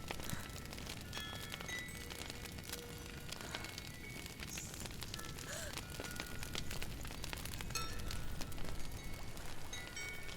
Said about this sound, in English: Listen to that crackle, that fire